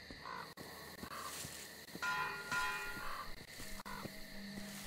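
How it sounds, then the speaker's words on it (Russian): Crows cawing in the video game Metro Exodus, several harsh caws spread across the clip over a bed of outdoor ambience, with sharp clicks and a brief tonal ring in between. "Гребаные птицы."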